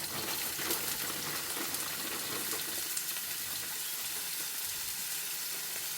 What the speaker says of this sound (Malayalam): ചൂടായി വന്ന ഓയിൽ അതിലേക്ക് സവാള ഇട്ട്.